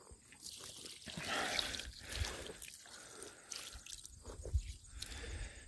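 Water dribbling and dripping onto young cover crop seedlings, a steady soft trickle with patters that swell and ease, fairly close and alone with no talk.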